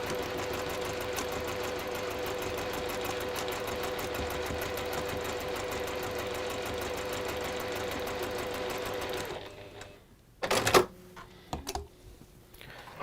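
A sewing machine chain pieces fabric in a steady, fast continuous run for about nine seconds, close and moderately loud. Then it stops and a few brief clicks and handling noises follow.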